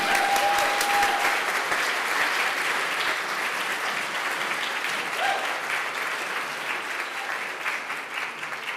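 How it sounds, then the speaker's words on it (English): A steady round of audience applause greets the host taking the stage at an awards ceremony, dense and even throughout with no talking over it. "please support Annie by giving a big round of applause as she arrives on the stage"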